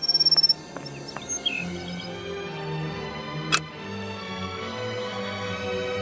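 Bird call heard in the Sherlock Holmes: Nemesis game: a few short chirps near the start, then a sustained ambient bed with insect-like ticking and one sharp burst midway, no talking.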